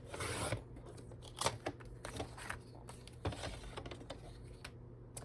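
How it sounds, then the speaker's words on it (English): Scissors snip through a paper bookmark for a woodland-themed autumn junk journal, giving several close, crisp cutting sounds with soft paper rustling between them over a low steady hum. "I think it's best to cut off the bookmark first."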